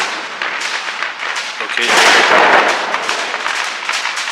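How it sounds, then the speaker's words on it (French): Firecrackers thrown outdoors at a wedding near a basilica in Brussels, a dense crackle of rapid pops that swells to a loud burst midway and stays busy throughout, with a brief spoken word. "Du coup ils sont en train de jeter des pétards."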